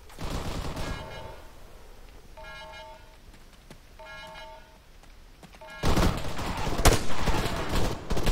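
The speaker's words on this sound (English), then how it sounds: "Taking fire!" Gunfire in the ARMA 3 video game during an infantry assault, with scattered shots and a faint ringing tone in a quiet stretch, then a sudden loud burst of rapid shooting that continues to the end.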